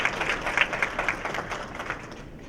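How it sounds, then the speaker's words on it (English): An audience applauds to welcome a speaker to the podium: dense, steady clapping from many hands that fills the whole stretch at an even, moderate level, with no voices. "please give him a nice round of applause"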